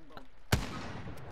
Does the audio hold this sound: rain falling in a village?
no